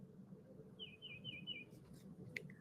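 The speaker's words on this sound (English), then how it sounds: "Can you hear the bird music? The bird chirping." A bird chirps a quick series of four high tweets followed by a couple of sharp faint notes, small against a low background hum.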